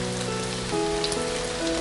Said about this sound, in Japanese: 雨の音を聞きながら